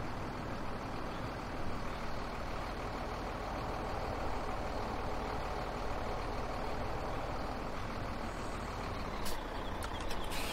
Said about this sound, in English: That truck just hits every little bump in the road.